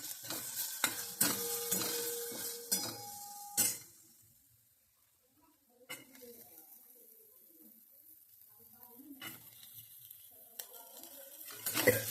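Green chillies hit hot tempering oil with cumin for vada pav filling, a burst of sizzling and utensil clatter for a few seconds before it falls to a faint, quiet hiss with occasional soft knocks.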